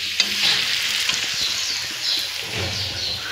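Onion and garlic fry in a pan for a poultry meat dish, with a loud, close, continuous sizzle broken by the scrape and clatter of stirring.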